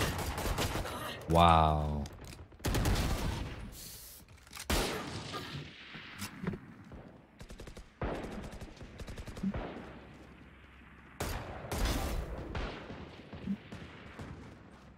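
Gunfire in a VR shooter game: many sharp, loud shots in irregular bursts, some in quick strings, with a brief exclamation from a player between them.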